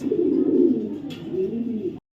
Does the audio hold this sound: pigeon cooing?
yes